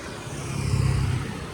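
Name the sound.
noisy city traffic in Hue, Vietnam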